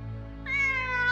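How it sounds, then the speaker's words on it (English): A single cat meows in the Demon Slayer Hinokami Chronicles video game, one clear drawn-out meow rising over a quiet musical backdrop, with no talk. "it would be invisible until it meowed, and then vanish again when it meowed a second time"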